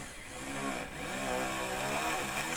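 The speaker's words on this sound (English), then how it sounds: "so we'll drill now" A small drill bores into jewellery metal lubricated with beeswax, giving a steady, close whirring buzz that holds for a couple of seconds at moderate level, with no talk over it.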